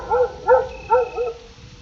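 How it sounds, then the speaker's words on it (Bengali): A dog cries in the distance at night, giving four mournful whimpering wails spaced about half a second apart, each thin and plaintive. The wails fade gradually over a soft steady background hiss. "দূরে কোথাও একটা কুকুরের কান্নার আওয়াজ।"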